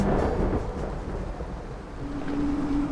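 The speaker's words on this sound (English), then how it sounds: "massive thunderstorms began to generate in the sky" Thunder from massive thunderstorms in Ontario rumbles low and continuous, a heavy rolling roar that fills the whole stretch with a steady wash of rain-like noise.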